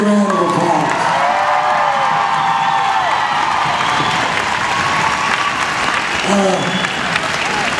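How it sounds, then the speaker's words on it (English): Spectators at an extreme cowboy race finals in Albany give sustained, loud applause with cheering and whoops for the rodeo competitors, and crowd voices mingle in throughout. "would you give each and every competitor a big round of applause?"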